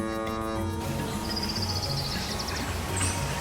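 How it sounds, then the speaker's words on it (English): A tropical parrot gives a few harsh, raspy calls, close and fairly faint, with no talking. "Parrot, a tropical bird."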